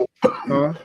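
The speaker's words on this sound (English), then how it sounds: "I was coughing" A single short, rough cough breaks in sharply after a word of casual speech, close to the microphone in a conversation, followed by a voiced tail.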